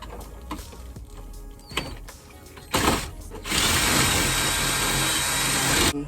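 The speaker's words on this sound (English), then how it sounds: "we're just gonna try to drill out those rivets." A power drill bores out rivets in the dash of a 1999–2002 Chevrolet Silverado during a double DIN stereo conversion. Scattered clicks give way to a loud, steady grinding whir close by.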